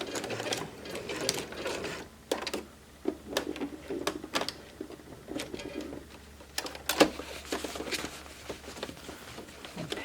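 A sewing machine stitches over a seam on a foundation paper-pieced tulip potholder, with a low steady hum under a series of sharp clicks and brief stitching bursts, fairly close and quiet.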